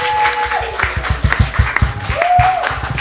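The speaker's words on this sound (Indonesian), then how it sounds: "Tepuk tangan mana? Tepuk tangan." A few people clap in a steady rhythm at an Indonesian talk-show style gathering, close and fairly loud, with a sustained tone and background chatter running underneath.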